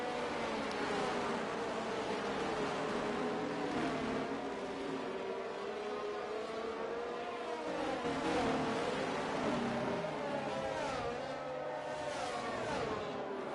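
Race cars in the F1 23 video game accelerate hard at a restart at the Las Vegas circuit, a steady, dense whine of several engines rising and shifting in pitch, continuous and fairly loud throughout with no talk.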